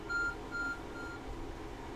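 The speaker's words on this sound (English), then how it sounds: "Your arc phone is beeping." Arc phone in the video game Pokemon Legends: Arceus sounds a short beeping alert, a few repeated high electronic tones over a low game background hum.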